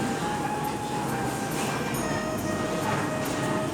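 A train rolls into a platform at Bhanjanagar park, a steady close rumble of wheels and carriages with a faint whine above it, loud and continuous throughout.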